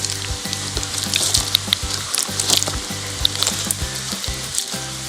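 Slime being squished by hand, a close, continuous wet crackling and squelching with small popping clicks over a low tonal hum.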